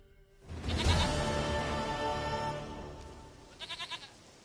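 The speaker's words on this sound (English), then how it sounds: "Goat of mine, dearest, sweetest goat." A goat in The Witcher 3: Wild Hunt gives one long, loud, wavering bleat, then a short run of quieter pulsing bleats, with no talking.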